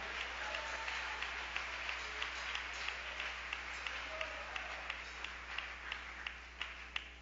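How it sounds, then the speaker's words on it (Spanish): Congregation clapping hands in praise during a Spanish-language evangelical vigil service, a steady sustained wash of applause with sharper individual claps standing out, moderately loud and continuous throughout. "Dale palmas al Rey de Gloria."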